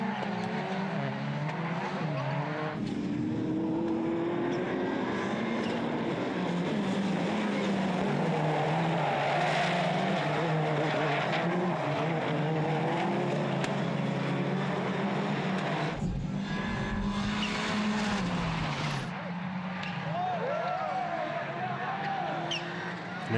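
Rallycross race cars in the D1 final at Chateauroux roar past continuously at high revs, engine notes rising and falling with tire squeal, while a commentator talks over the racing.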